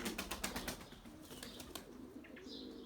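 A white male tumbler pigeon claps its wings in quick bursts of rapid flapping, close and fairly faint, with a few soft chirps near the end.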